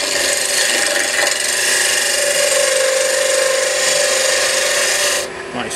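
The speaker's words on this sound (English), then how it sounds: "my skew as a double-sided negative rake scraper" Wood lathe turning a blank, with a skew chisel used as a double-sided negative rake scraper: a steady, loud scraping rasp with a whining tone runs throughout and then cuts off near the end.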